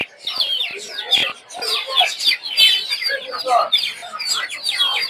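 Native chickens and chicks at the Tongi bazaar poultry market, a dense, loud chorus of clucks and high peeping chirps that runs continuously, with people talking at times.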